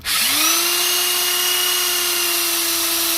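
An electric drill spins an abrasive sanding disc on a velcro-backed foam pad, spooling up quickly to a steady, loud, continuous whine that holds without a break.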